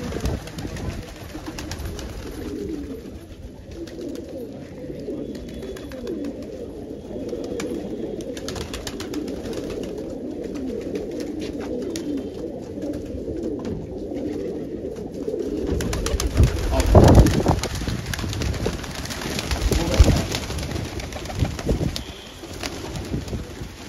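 Many pigeons belonging to Kake Uncle, a fancier with over 165 birds, coo continuously and overlapping on a rooftop, with wing flutters and louder bursts toward the end.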